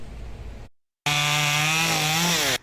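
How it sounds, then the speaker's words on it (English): A chainsaw cutting wood during storm cleanup in Michigan, a loud buzzing whine that holds steady, then dips in pitch as the blade bites, after a short burst of sawing and a brief silent gap. "The chainsaws sputtering, generators whirring"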